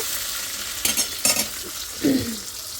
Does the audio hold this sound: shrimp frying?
yes